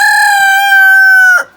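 A single loud rooster crow, close by, one long sustained call that cuts off sharply at the end.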